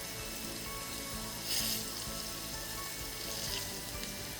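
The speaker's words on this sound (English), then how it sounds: "I have a chili here and I'm going to break it in half and just put that in. Just let that fry." A halved chili fries in a pan of Indian potato and okra curry, giving a faint, even sizzle with a couple of slightly louder swells.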